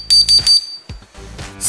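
Electronic beeps from a homemade Morse code circuit sending the letter B by tapping aluminium metal: a quick run of short, bright, close tones, followed by faint clicks and handling noise.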